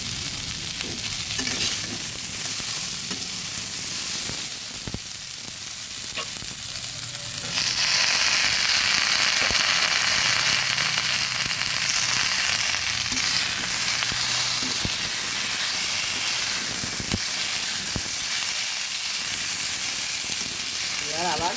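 Onion stalks, egg and potato fry in a pan, a steady broadband sizzle that turns louder and brighter partway through and then holds near and continuous, with a few clinks of stirring.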